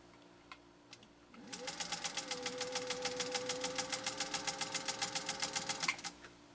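A 1948 Singer 201-2 sewing machine stitching light 100% cotton fabric with upholstery thread: a motor hum rises, then a fast even chatter of needle strokes runs for about four seconds before winding down, alone and close.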